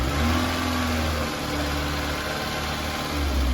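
A Toyota Corolla engine revs up when given gas, a steady close mechanical drone that rises and swells in pitch and loudness, eases off in the middle, then climbs again near the end.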